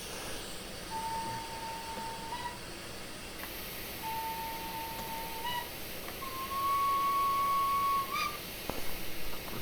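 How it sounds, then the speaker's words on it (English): A steam locomotive's whistle in Train Simulator Classic, on an LNWR Greater Britain 2-2-2-2 engine, gives three sustained tones of one to two seconds each, the last louder and higher, over a hissing, rumbling background. "So B is your secondary whistle"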